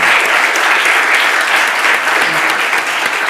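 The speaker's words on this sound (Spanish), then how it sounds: "Un fuerte aplauso para ella." A studio audience at a Spanish talk show claps loudly and steadily for an actress and theatre producer, a dense, even wash of applause lasting the whole stretch with no pause.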